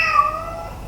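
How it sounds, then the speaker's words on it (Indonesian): A cat gives one short, clear meow, close and fairly loud, fading quickly with no talk over it. "Wah, kenapa itu kucing?"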